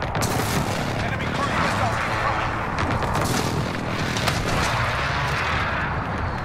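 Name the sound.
air strike explosions in video game Cyber Attack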